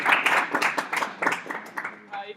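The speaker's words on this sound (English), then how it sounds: "Everyone, round of applause." A short burst of clapping from a small group, uneven and close, with a few cheers mixed in before it fades.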